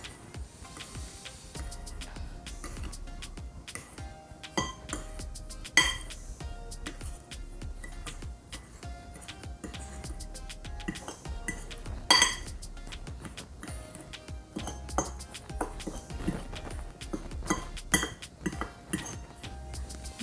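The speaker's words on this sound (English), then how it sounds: "So I'm just going to mix the breadcrumbs with all of that goodness" Breadcrumbs being mixed with black pepper, white pepper and cinnamon for yam balls: light clinks and scrapes of a utensil against a bowl, irregular and close, fairly quiet throughout.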